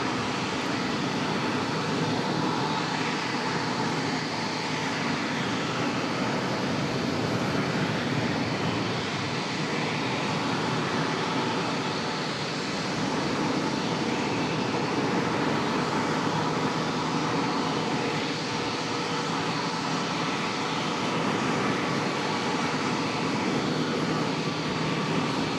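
A jet airliner departing Charlotte airport, a dense, steady engine roar that carries evenly through the whole stretch at a consistent middling distance, with no voices over it.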